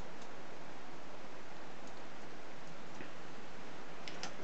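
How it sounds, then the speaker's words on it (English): Heavy rain pours down outside, a dense, even, muffled hiss that holds steady throughout with a few faint ticking drops scattered through it. "It's chucking it down outside."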